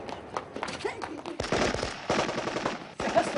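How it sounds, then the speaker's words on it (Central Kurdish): Rapid bursts of gunfire in a Kurdish feature film scene, loud clustered volleys and single shots in quick succession with voices shouting and talking over the shooting. "دیسان دەنگی تەقەتی"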